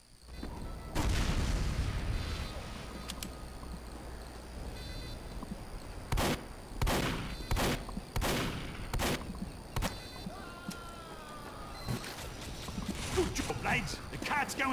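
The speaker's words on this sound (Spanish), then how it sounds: "Ese desgraciado me disparó." Gunfire in the Team Fortress 2 multiplayer game, a run of sharp shots crackling in a loose rhythm over game noise, with people talking and laughing throughout.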